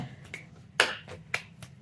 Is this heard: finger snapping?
yes